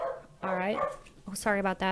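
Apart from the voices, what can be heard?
dog barking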